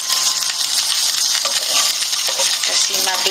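Dried fish frying in just a little oil, a steady bright crackling sizzle that fills the whole stretch, close and fairly loud, with a few faint clinks of a utensil toward the end.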